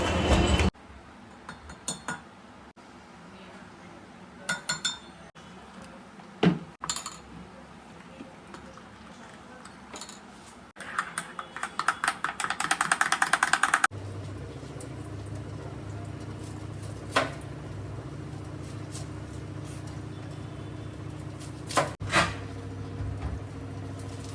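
A cup and spoon clink while Horlicks is made in a home kitchen: sparse, sharp metallic taps over a low background hum, with a brief burst of rattling midway.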